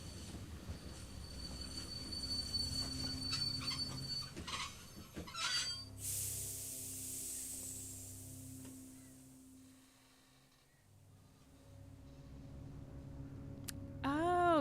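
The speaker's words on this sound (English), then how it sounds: "Like, trains are so loud." A train rumbles past in The Walking Dead Season 1 video game, loud and close, its wheels squealing and clattering before the noise fades and a high metallic screech rises near the end.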